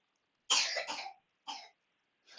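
A sick young girl coughs in a short burst of two or three close coughs, then one more a moment later, with quiet between them.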